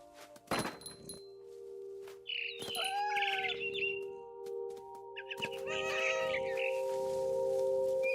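A cat in the video game What Remains of Edith Finch gives several short meows and chirpy cries, spaced apart over a low steady hum, with a couple of soft thumps and a bird-like chirp at the start.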